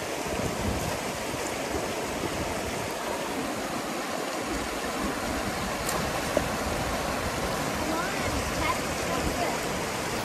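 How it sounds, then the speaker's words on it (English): A stream's water current flows outdoors on a trail, a steady, even wash of rushing water that stays fairly faint and constant throughout. "there's a water current."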